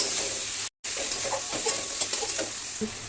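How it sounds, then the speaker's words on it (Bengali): Tomato, green chilli and spice paste frying in a pan for egg curry, a steady bright sizzle with occasional stirring scrapes and a brief dropout, fairly close and continuous. "এবারে টমেটো আর কাঁচা লঙ্কাটা এবার দিয়ে দিব ভালো করে কষিয়ে নিব মশলাটা"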